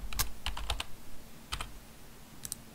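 Short bursts of keystrokes on a computer keyboard while cell formulas go into a spreadsheet, a few quick clusters of taps separated by brief pauses, close and fairly quiet.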